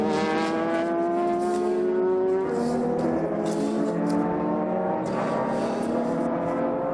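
Super GT race cars in a close battle for third and fourth at Motegi, engines screaming continuously with layered, shifting pitches as they run near together, loud and steady throughout.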